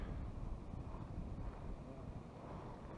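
Steady low wind rumble buffeting the microphone beside a river backwater while fishing, constant and fairly loud, with no clear voices over it.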